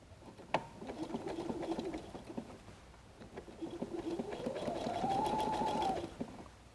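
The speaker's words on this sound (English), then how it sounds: "sew with the triple zigzag" A sewing machine hums quietly, stitching a triple zigzag on fabric-covered clothesline rope for a basket; its motor whine rises in pitch and holds steady near the end after a soft click at the start.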